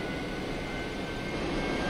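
A-4E jet engine starting up on shore in a flight simulator game, heard as a loud, steady whine and rush of turbine noise with a thin high tone running throughout, no voices.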